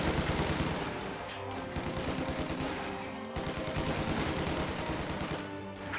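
Riflemen open fire in a video game skirmish: dense, sustained rattling bursts of gunfire overlap for the whole stretch, loud and continuous, with no talking.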